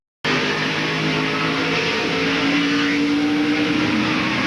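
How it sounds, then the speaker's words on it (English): Loud, sustained race car engine roar heard onboard a 2002 Chevrolet Monte Carlo stock car at Richmond, a dense steady drone with rising pitch, no voices. "Let's go on board and listen to the engine."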